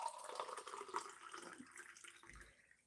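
Water pours from a tap or jug into a cup during a refill, a steady faint splashing stream that gradually tapers off.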